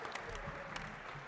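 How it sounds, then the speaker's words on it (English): An audience at a league tournament applauds, a brief, faint burst of scattered clapping with a couple of sharper claps and a murmur of voices underneath. "Let's give a round of applause to Corey, guys"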